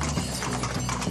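Lusitano horses' hooves clip-clop in a steady, close rhythm on hard ground, with a faint whinny-like tone mixed in and no talking.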